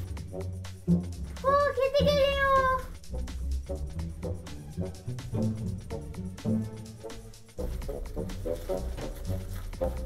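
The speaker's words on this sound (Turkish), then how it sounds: "Kedi geliyor Nisa, çabuk ol." A cat meows once in a long, wavering cry near the start, fairly close, while a child and others chatter and move around in a busy room for the rest of the clip.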